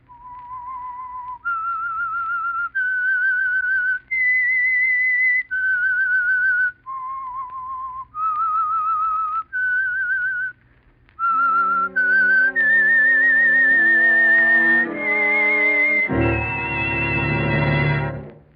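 A lone, clear whistled melody of sustained notes with short pauses, the opening signal of the radio drama The Whistler, followed by a swelling orchestral chord that grows loud at the end.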